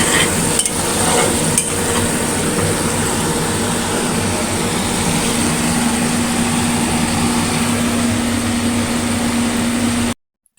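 Potatoes stirred into a frying spice paste: a continuous close sizzle with steady stirring and a faint electrical hum, no voices, cutting to silence at the very end.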